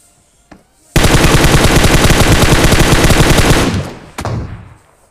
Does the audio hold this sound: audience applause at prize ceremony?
no